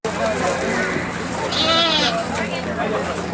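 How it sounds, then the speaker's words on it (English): A brown sheep bleats close by inside a barn at a park farm festival, one wavering bleat standing out over steady crowd chatter and children's voices. "It's called sheep."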